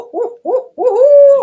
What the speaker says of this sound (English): barred owls sometimes just do a short call